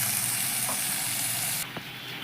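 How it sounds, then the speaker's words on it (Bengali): Onion and chopped green chili fry in a pan, a steady, close hiss of sizzling oil that drops slightly toward the end, with a couple of faint clinks and no speech. "তো পেঁয়াজ আর লঙ্কাটা আমি সুন্দর নরম করে ভেজে নিয়ে আসে।"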